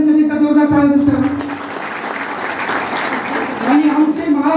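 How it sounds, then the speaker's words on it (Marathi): Audience applause at a company award ceremony honouring a 75-year-old guest, a broad clapping wash that swells in the middle and fades, with a voice speaking over it at the start and end. "जोरदार टाळ्या"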